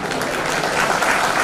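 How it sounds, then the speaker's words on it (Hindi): Applause from the audience at a Hindi comedy poetry gathering (hasya kavi sammelan), a dense, steady wash of clapping filling the whole moment at close range with no voices over it. "7-8 लोगों ने ताली बजाइए"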